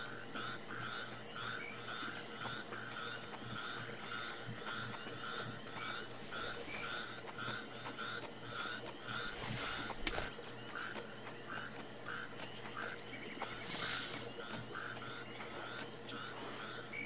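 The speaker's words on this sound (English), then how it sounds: "These frogs and crickets and bullfrogs." Frogs croak in a rhythmic, repeating pulse over a dense bed of insect chirring in a wetland setting of the hunting game The Hunter Classic, steady and moderately faint throughout, with no talking.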